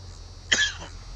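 A single short, sharp cough, fairly close, rising out of a quiet background with a faint low hum and trailing off within half a second.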